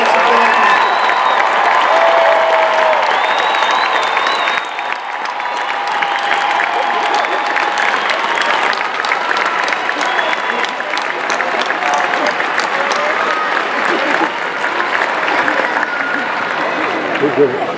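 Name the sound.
commencement audience applauding graduates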